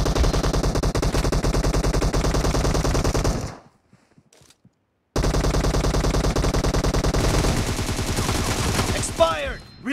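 Rapid automatic gunfire in the mobile shooter BGMI, set in an arena training warehouse, sounds loud and close in dense sustained bursts, drops into a roughly one-and-a-half-second silence, then resumes with more firing and metallic clatter.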